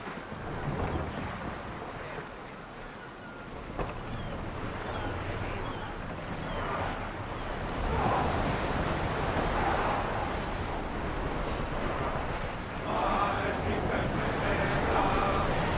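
A sailing warship at sea in Assassin's Creed Odyssey: waves, wind and a rushing hull wash rise and fall across the scene, with faint crew shouts mixed in.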